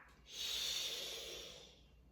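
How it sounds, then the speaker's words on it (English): A single long, breathy hiss of an exhale, like an angry cat, during a yoga breathing exercise, close and fairly soft, swelling then fading out. "letting out that breath like an angry cat"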